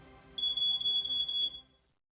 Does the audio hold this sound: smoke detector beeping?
yes